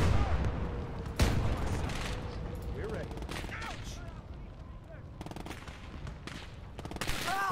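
Mounted guns firing in Gates of Hell: a dense, continuous stream of rapid gunfire and distant booms fills the whole stretch, with a sharp louder shot early on and someone talking over it.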